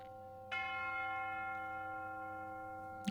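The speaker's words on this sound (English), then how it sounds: "You'll hear the bell here in a moment." A single deep church bell strikes once and rings out with a long, slowly fading metallic hum, heard close and alone, with a faint second strike starting right at the end.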